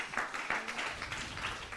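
Audience applause at a live church youth seminar, a brief burst of clapping from the crowd that sounds moderately loud and close, with a few distinct claps near the start.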